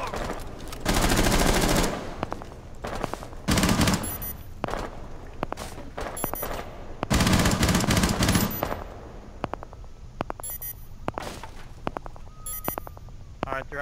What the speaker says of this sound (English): I just shot at them.